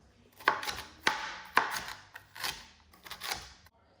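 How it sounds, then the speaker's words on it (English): Knife chopping onions on a cutting board in a home kitchen, a handful of sharp, evenly spaced cuts close up, with no talk. "So when you finish chopping these up, I'm gonna do the same thing with the onions"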